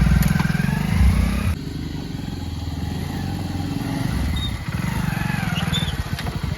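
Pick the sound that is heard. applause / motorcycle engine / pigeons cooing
motorcycle engine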